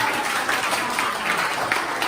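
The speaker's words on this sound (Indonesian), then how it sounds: "Tepuk tangan dulu dong." A short burst of group applause in a classroom, many hands clapping in a dense, steady patter throughout.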